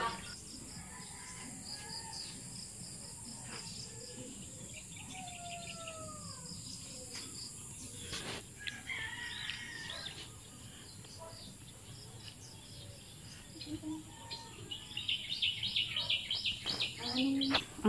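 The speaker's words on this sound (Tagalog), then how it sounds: "Ang sarap pakinggan ng mga huni ng ibon. Naririnig nyo ba ang mga huni ng ibon sa paligid?" Birds chirp and sing outdoors in a rural province setting, with scattered short calls and whistles over a steady insect drone, growing busier and louder toward the end.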